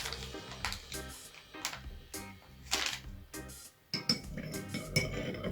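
A spoon stirring baking soda into a cleaning solution in a bowl, heard as a run of rhythmic close metallic clinks and taps against the side, pausing briefly before a final few stirs.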